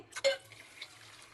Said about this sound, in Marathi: तांदूळ स्वच्छ पाण्याने धुवून घेते.